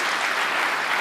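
Steady, broad snooker audience applause for a century break, many hands clapping at once in a continuous wash of sound.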